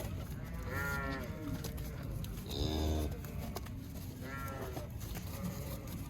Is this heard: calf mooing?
yes